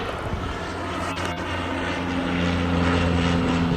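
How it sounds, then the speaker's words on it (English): A propeller seaplane drones overhead on an overcast day, a steady loud engine hum with low harmonic tones holding throughout and swelling slightly toward the end. "Look at this plane."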